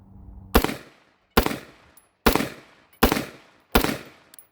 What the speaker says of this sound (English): just getting rounds downrange